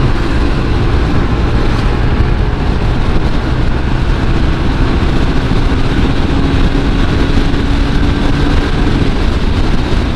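Stock Honda PCX 160 scooter on the throttle on a test ride, with loud continuous engine drone and wind rush close to the rider.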